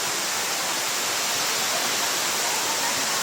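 Panas Falls waterfall in New Corella, Davao del Norte roars as a steady, dense rush of falling water, loud and close, with no break across the whole stretch.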